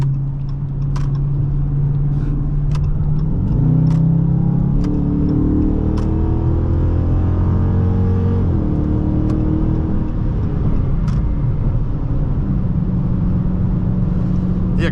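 A 2021 Dodge Charger R/T engine pulls hard while merging, a steady loud mid-pitched drone rising through the revs with a brief shift-like dip, heard from inside the cabin with no talking.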